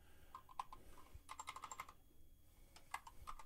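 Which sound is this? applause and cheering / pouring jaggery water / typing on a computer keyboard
typing on a computer keyboard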